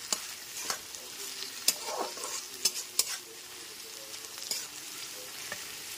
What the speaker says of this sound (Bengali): গ্যাসের ফ্লেমটা লো টু মিডিয়ামে রেখে পেঁয়াজটাকে লাল করে ভেজে নেব।